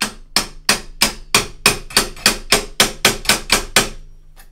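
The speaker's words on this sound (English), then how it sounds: "I might actually use a hammer here." Hammer striking repeatedly during assembly of a 3D printer, about a dozen sharp, evenly spaced blows in a steady rhythm, loud and close, with no talking.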